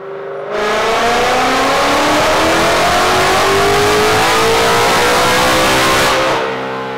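On a rear-wheel dyno, a car with a VMP Gen 6 3.0 L Stage 2 or Roush Phase 2 supercharger kit revs hard through a sixth-gear pull, a loud sustained roar rising steadily in pitch for about six seconds before cutting off.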